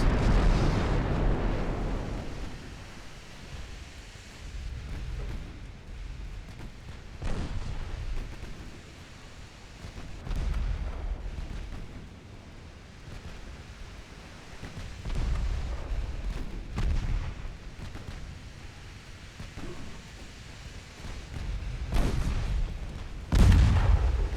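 Battleship gunfire in Ultimate Admiral Dreadnoughts: a loud deep salvo opens the clip, followed by repeated heavy booms and rumbling bursts spaced every few seconds, with another big blast at the end.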